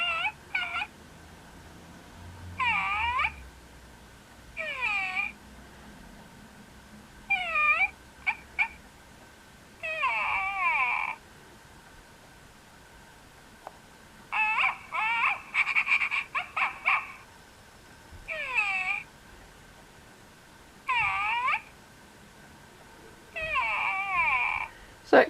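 Short electronic barks, whines and mewling yelps come from an OMG Pets Poodles toy dog, in separate bursts a second or two apart with one busier flurry midway, close and clear against a quiet room.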